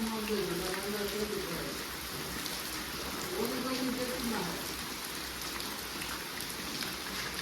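Heavy rain pours steadily in Nilakha, a dense, continuous hiss of drops on surfaces that fills the whole stretch, with a voice talking over it.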